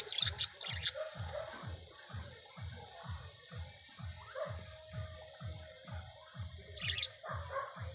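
Small bird chirping in a garden among potted plants, short bright calls near the start and again later, over a steady rhythmic low thumping pulse and faint background noise.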